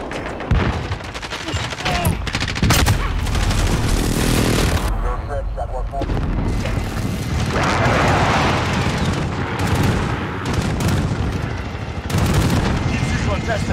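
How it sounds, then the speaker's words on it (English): A precision airstrike in Call of Duty multiplayer sets off a continuous roar of heavy, booming explosions and gunfire, with voices talking over the blasts throughout. "Enemy precision airstrike inbound."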